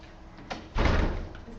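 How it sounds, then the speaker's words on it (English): A door is pushed shut in a home: a brief faint knock, then a loud thudding close with a short rattle, heard alone without speech. "I will close the door."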